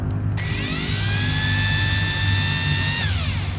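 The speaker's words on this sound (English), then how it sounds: "I've never gotten this drill chuck to spin a drill bit straight" A power drill spins a bit with a crooked, wobbling chuck, whining steadily at high speed for several seconds, its pitch rising at start-up and dropping as it winds down at the end.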